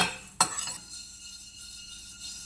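Fenugreek seeds frying in a pan, opening with a sharp metallic clink followed by a soft steady sizzle that fades and settles, no voices.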